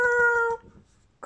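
A British Shorthair cat gives a single clear, drawn-out meow, close and fairly loud, which then fades into quiet with a faint sound at the very end.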